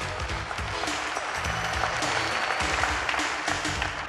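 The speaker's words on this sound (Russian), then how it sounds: "Бурные аплодисменты здесь" Stormy applause from a concert audience at a Russian radio music awards show, dense sustained clapping from a large crowd, loud and continuous for several seconds with some music or low sounds underneath.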